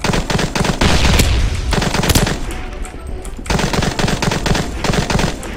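Loud, rapid bursts of automatic gunfire from a video game rattle close by, easing briefly in the middle before the shooting resumes.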